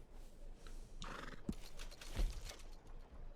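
A horse whinnies in a Western video game, a short neigh rising in the middle, followed by hoof thuds against a steady background of ambient game sound.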